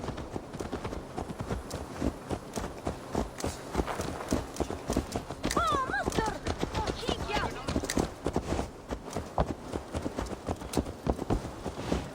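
Hooves clip-clop in a brisk, steady rhythm for a long stretch, a horse trotting close by in the video game Assassin's Creed Valhalla, with a short whinny midway.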